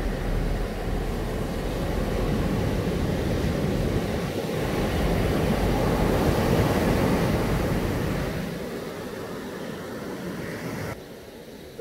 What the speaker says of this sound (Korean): 파도가 대단하지?